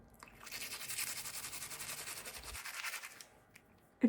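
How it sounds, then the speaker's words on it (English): Toothbrush loaded with whitening powder scrubbing teeth in a steady back-and-forth rhythm, close and moderately loud, fading out near the end. "And now I'm going to brush my teeth."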